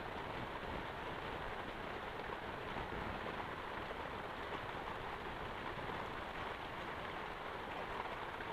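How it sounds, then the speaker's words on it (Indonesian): Heavy rain pouring down outside a hut in a garden, a dense, constant, even roar of falling water with no breaks, with no talking. "tuh di luar sana hujan"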